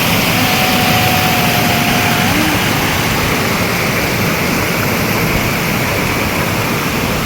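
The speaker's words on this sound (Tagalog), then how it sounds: "Sinundan tayo na helicopter." A helicopter flying overhead above a fishing spot, a loud, steady rotor and engine roar that fills the whole stretch with a constant broadband rumble and no voices.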